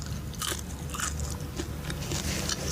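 Crisp popcorn crunching, a steady run of close, dry bites and crackles with no voices.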